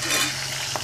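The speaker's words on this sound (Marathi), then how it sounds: "टोमॅटो हे चांगलं हलवून घ्यायचं, तेलामध्ये परतू द्यायचं" Tomato is stirred and fried in oil in a pan while making home-made matki misal, a steady close sizzle with a brief clink of a utensil near the end.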